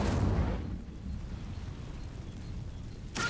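Incendio fire spell cast in Hogwarts Legacy: a loud whooshing fiery burst that fades into a low rumble, followed by another short blast at the end.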